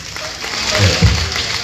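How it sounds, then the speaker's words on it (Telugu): An audience at a church gathering claps together, a steady wash of applause that swells slightly in the middle and carries on at a moderately loud level. "చప్పట్లు కొట్టండి"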